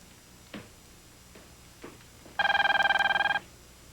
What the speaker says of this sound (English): Answer the phone, George.